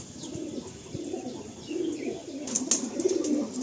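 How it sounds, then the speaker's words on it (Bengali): Several pigeons in a loft give low, rolling coos, repeated in close overlapping phrases, with a few brief higher chirps and scuffs near the end, nearby and with no talking. "এরকম পায়রা তো প্রচুর আছে লফটে"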